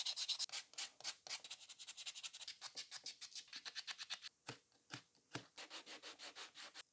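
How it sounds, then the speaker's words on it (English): Light hand sanding of carved scrap-wood mushrooms with 220 grit paper to remove stray epoxy, heard as quick, rhythmic, close rubbing strokes in a steady back-and-forth pattern with a few brief pauses. "I'm going to be doing a little bit of light sanding to get rid of some of the epoxy"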